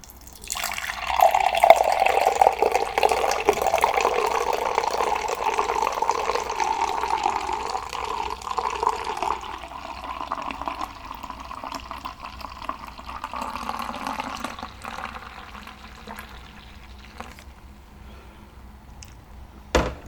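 Guinness stout pours into a glass in a long, close, continuous gurgling stream that slowly fades as the glass fills, ending with a brief clink.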